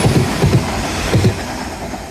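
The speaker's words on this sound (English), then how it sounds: "any trains that may happen to come past will indeed be filmed" A train passing along the Teignmouth seawall, its wheels giving rhythmic clickety-clack pairs over rail joints, loud and close, with a steady rumble between the beats and no talking.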